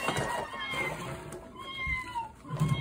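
A cat gives a drawn-out meow, fairly close, with a voice and other talk nearby.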